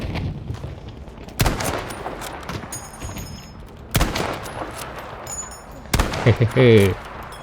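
Gunfire in the World War II shooter game Battlefield V, with a Kar98k bolt-action rifle, where several sharp, loud shots are spaced a couple of seconds apart. Metallic clicks and rattles come between them, and someone speaks quietly in the background.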